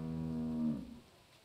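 A cow on a farm in The Walking Dead Telltale game lets out one long, clear moo close by, tapering off into quiet room tone.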